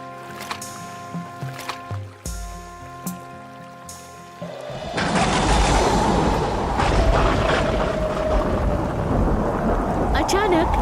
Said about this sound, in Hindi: अचानक नदी में तेज तूफान आ जाता है।